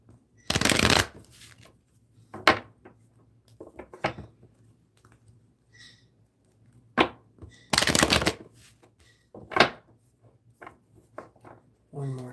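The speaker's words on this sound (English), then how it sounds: "Let me shuffle again here." Tarot cards are shuffled in two loud bursts of riffling, with softer card taps and handling in between over a low steady hum, close and clear.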